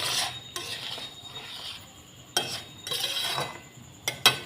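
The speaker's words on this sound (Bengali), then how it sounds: "ভালো করে একটু নেড়ে চেড়ে কষে নেবেন।" Chicken with spices and potatoes being stirred and fried in a pan for chicken kosha, with bursts of scraping and metallic utensil clinks against the pot over a faint sizzle.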